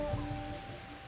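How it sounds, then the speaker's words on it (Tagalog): Heavy typhoon rain pours across Zambales province, a steady broad hiss that is faint and distant, with a low hum underneath. "ramdam pa rin sa mga oras na itong malakas na buhos ng ulan sa malaking bahagi sa probinsya ng Zambales"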